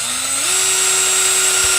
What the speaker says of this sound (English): We just want to do the 3/8 size hole that it requires for those poultry watering cups